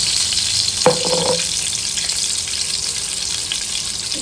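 Ghee sizzles in hot mustard oil left from frying prawns, a steady close hiss throughout, with a brief metallic clink of a utensil near the start.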